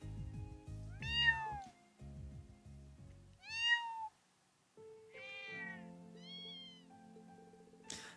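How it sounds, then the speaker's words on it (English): Cats meow in the video game Trails of Cold Steel II, several distinct plaintive calls in turn, some higher and thinner like kittens, over soft game music and a low hum. "Rean and V asked everyone they could find, even Selene, searched for the missing mother cat"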